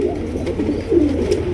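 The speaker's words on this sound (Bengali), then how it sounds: "এখানে রয়েছে একজোড়া গিরিবাস কবুতর" A pair of high-flying Giribaz pigeons, a nesting pair with two eggs, gives soft low cooing, close and steady, with no talk.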